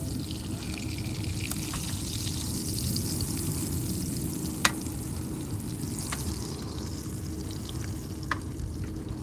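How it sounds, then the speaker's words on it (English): Fish frying in a pan outdoors while being basted with butter, a steady crackling sizzle that runs continuously, with a few sharp pops and clicks breaking through. "I'm gonna flip this bad boy over. And then I'm gonna baste all this butter on top of it."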